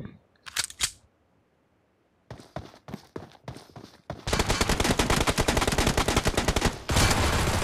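Rapid gunfire exchanges in a competitive shooter video game tournament, with separate bursts of shots followed by a long, dense stretch of continuous loud rapid firing near the end.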